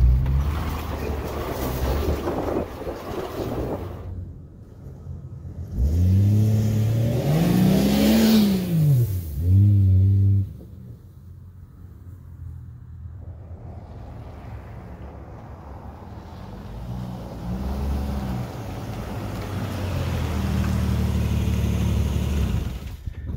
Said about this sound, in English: I'm just gonna drive around and let these brake pads cool down now.